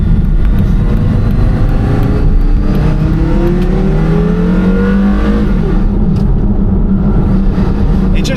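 A Porsche Carrera GT engine revs freely and loudly from inside the car, with rising and falling pitch sweeps over a constant heavy mechanical roar.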